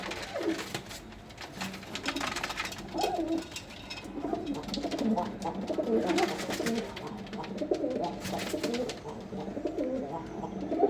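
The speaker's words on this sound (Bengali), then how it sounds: "দেখো কবুতর গুলা কি সুন্দর করে মারামারি করতে আছে" Pigeons coo steadily and close by while scuffling and fluttering among themselves near their feed, with soft wing and body movement running under the cooing for the whole stretch.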